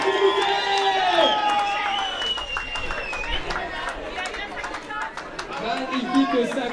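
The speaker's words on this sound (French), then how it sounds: "Et on peut l'applaudir, Michel Tan, s'il vous plaît." A crowd applauds and cheers a prize winner at a padel tournament award ceremony. Scattered claps run throughout beneath loud, steady announcer talk and crowd chatter.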